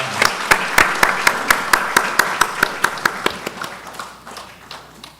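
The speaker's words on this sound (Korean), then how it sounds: "앞으로 나오실 때 우리 다른 지구 한번 박수로 환영합시다." A church congregation at a Friday prayer meeting claps to welcome a group coming forward, a slow, even run of sharp, close claps that thins and fades toward the end.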